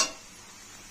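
Jackfruit and prawn curry being sautéed and stirred in a pan, a quiet, steady sizzle with a brief scrape of stirring at the start, no voices.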